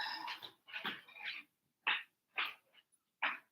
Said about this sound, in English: so hopefully Loki doesn't bark like crazy